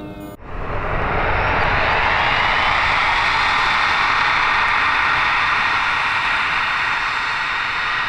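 A large RC Boeing 777X model airliner flies by with a loud, steady, broadband jet-like roar. The sound rises abruptly at the start and holds near and constant throughout, with no talk.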